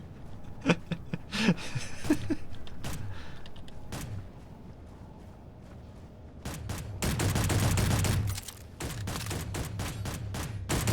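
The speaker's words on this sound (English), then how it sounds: "I heard your bullets plinking off here" Gunfire aimed at a base in Space Engineers co-op survival, scattered single shots early on, then dense rapid bursts of automatic fire later, loud and close.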